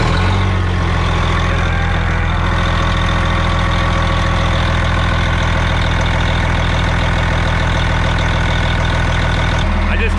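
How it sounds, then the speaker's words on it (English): A 1990s Newell coach RV's engine fires up and settles into a loud, steady diesel-like idle with a rhythmic low rumble, cutting off near the end; no one talks over it. "I'll fire it up again just because I want to listen to it."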